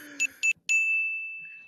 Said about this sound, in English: You hit the bell.